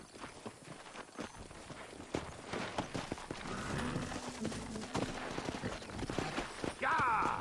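Rapid hoofbeats of a galloping horse in the video game Red Dead Redemption pound steadily with a rumbling, game-like mix, ending in a brief bright musical flourish.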